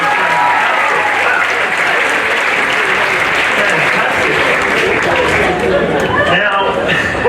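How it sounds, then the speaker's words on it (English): A live stage-show crowd gives steady, loud applause throughout, mixed with cheering and crowd noise and no clear talk. "Give him a big round of applause."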